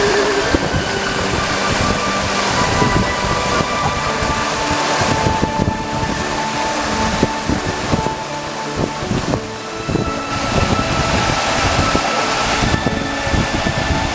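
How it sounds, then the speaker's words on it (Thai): Water crashes down steadily at an unnamed waterfall in Nakhon Si Thammarat, Thailand, heard from right beneath the falls as a loud, dense, continuous roar with no voices over it. "ตอนนี้เราอยู่ใต้น้ำตกแล้วครับ"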